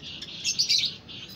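Many caged birds chirp and tweet in overlapping bursts, close and fairly loud, with a brief flutter of wings and no talk.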